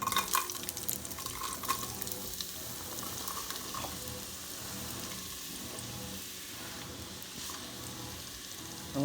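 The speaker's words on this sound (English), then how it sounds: "I'm going to put the onions and celery in here and let them cook up a little bit." Onions and celery sizzle and fry in heated oil in a pot for oxtail soup, a steady soft crackling hiss with occasional stirring, fairly quiet throughout.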